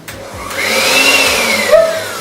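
An electric hand mixer whirring through a Victoria sandwich cake batter, a steady high motor whine that rises and bends in pitch as the beaters work, loud and close with no talking.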